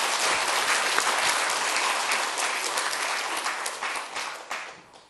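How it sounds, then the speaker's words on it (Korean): A church congregation at a Sunday worship service in Cheongju claps together in a dense, steady burst of applause that swells briefly and then tapers off toward the end. "네, 박수도 한번 할까요?"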